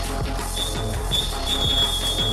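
A referee's long final whistle at a football match sounds as a thin, steady shrill tone held for about two seconds over a constant crowd and hall rumble.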